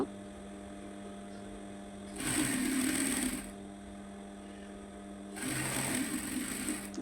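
A sewing machine double-stitches a pant slit in two separate bursts of running, each lasting over a second, with a steady mains hum continuing underneath and in the pauses between them.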